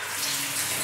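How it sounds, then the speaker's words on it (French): Shower water runs steadily in a run-down bathroom with broken glass scattered around, a continuous close hiss of spray with no pauses. "Bon, on va voir si la douche fonctionne."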